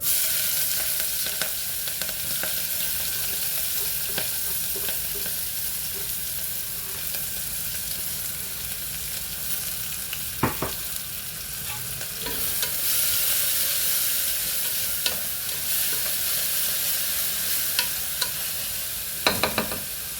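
Onions frying in a pan of hot oil while biryani is cooked, giving a continuous bright sizzle with occasional stirring scrapes and pops, close and steady throughout with no talking.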